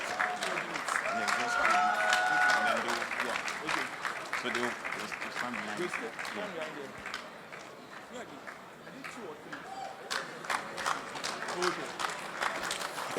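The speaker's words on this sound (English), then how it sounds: "A round of applause for The Dream, please." Audience applause at a hackathon winners' announcement, crisp clapping that swells and fades under voices and background chatter, with a faint tonal sound early on.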